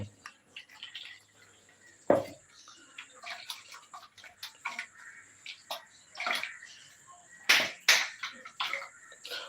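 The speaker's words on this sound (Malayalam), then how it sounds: "നമുക്കത് നന്നായിട്ടൊന്ന് പിഴിഞ്ഞൊന്ന് സെറ്റ് ചെയ്തെടുക്കാം കേട്ടോ" Grated coconut mixed with water is squeezed by hand, giving irregular wet squelches, drips and splashes, close and fairly quiet, with a faint steady tone underneath.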